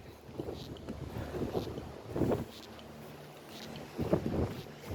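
Gusty wind buffets the microphone in low, rumbling bursts, swelling and fading irregularly with no voices.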